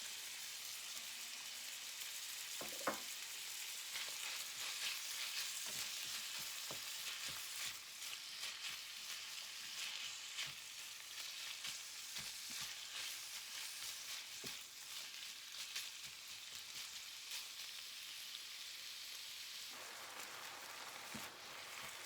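Onions frying with minced beef in a pan, a steady close sizzle with occasional stirring clicks and scrapes, no voices.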